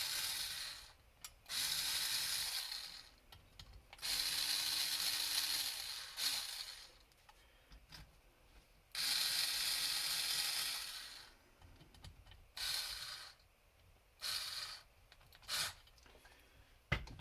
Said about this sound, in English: Yeah, I like using this little rechargeable driver.